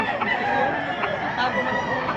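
Rooster crowing at a busy Filipino chicken market, a single drawn-out crow rising over a dense din of other fowl clucking and crowing nearby, with a steady crowd murmur underneath.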